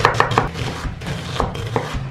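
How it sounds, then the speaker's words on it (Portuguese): Onion cut with a knife on a board: several crisp chopping taps, a quick run at the start and a few more spaced ones later, close and fairly loud over light background noise, with nobody speaking. "Agora, eu vou deixar cortada a cebola"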